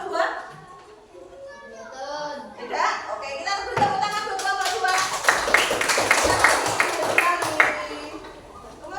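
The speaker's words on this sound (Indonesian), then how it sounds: "kita beri tepuk tangan buat kelompok 2" A primary-school class claps for a presenting group in a classroom, scattered taps building into brisk, loud applause with children's voices chattering underneath.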